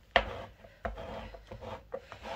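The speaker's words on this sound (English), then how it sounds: "Looks like I need to scrape this down a little bit better." Scraping and rubbing across a Cricut craft piece for home décor, a series of short rasping strokes with sharp onsets, close and moderately quiet, with no talking.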